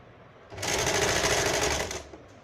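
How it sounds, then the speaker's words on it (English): A sewing machine stitches a shirt sleeve in one steady burst of about a second and a half, rising and cutting off cleanly against a quiet room. "So hold it and stitch it"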